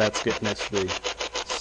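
A spirit box sweeping radio static during a ghost hunt in an old hospital gives a fast, even run of choppy scratchy bursts, close and fairly loud, with a voice speaking over it.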